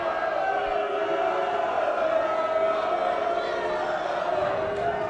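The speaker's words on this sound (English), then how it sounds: "Crowd already into it, Jim." An indoor crowd at the Mosconi Cup pool event keeps up a steady, loud murmur and cheer throughout, a continuous dense din with no distinct breaks.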